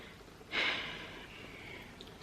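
Labored breathing close to the microphone: one short, strained, rasping inhale or exhale that swells abruptly and then trails off into quiet room noise.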